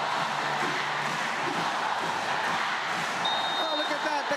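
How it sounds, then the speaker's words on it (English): A dense, steady roar of fans cheering at a professional women's volleyball match in the Philippines, loud and continuous, with a commentator talking over the crowd. "The crowd cheering, go, go, Japan."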